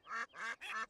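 Cartoon ducks on a train track give three quick, clear quacks in a row, close and alone with no talk.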